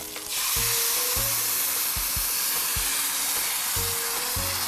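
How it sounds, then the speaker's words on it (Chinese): Food pan-fried in a hot pan with lemon peel, a loud continuous sizzling hiss close by with a few short clattering knocks of turning or scraping, no voices. "我煎咗佢，我就會翻轉咗佢。"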